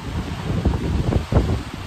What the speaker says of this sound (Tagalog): Pero lahat naman ng floor, malakas yung hangin.